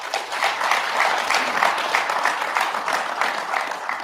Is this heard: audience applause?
yes